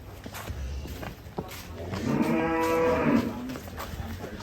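A sacrificial cow being unloaded from a truck lets out one long, loud, drawn-out moo, with shuffling and footstep noise around it and no talk.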